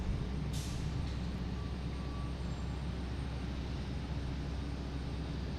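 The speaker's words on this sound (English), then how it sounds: "This is a Cessna Citation 5" A Cessna Citation V business jet at Boston Logan International Airport produces a loud, close, continuous jet roar with heavy low rumble and a brief hissing burst near the start.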